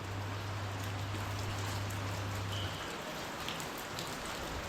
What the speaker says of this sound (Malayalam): പുറത്തിറങ്ങാനുള്ള ഒരു സാഹചര്യമല്ല കാരണം നല്ലൊരു മഴ പെയ്യുന്നുണ്ട് ഇവിടെ